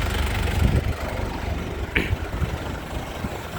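A 2005 Kijang Grand Touring engine idles at its exhaust, giving a steady low rumble with one brief sharper noise partway through, and no talking.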